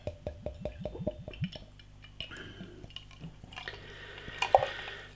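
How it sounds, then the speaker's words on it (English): Imperial Baltic porter glugging from a bottle into a glass: a quick run of about eight close, rhythmic gulping glugs, then a softer pouring hiss and fizz with a light clink, with no talk. "Nice glug on the pour"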